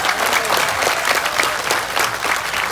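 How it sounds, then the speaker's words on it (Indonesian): Audience applause from a community gathering of Indonesians in Taiwan, a dense, steady wash of many hands clapping at close range. "Tepuk tangan untuk NO kalian."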